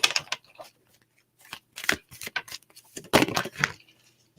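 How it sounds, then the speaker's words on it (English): Quick bursts of cards being riffled and shuffled, a few short flurries separated by pauses, close and fairly quiet. "Come on, cards. I don't even want to shuffle."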